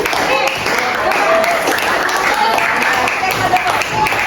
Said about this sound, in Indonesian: Tepuk tangan dulu buat teman kita yang sudah menanggapi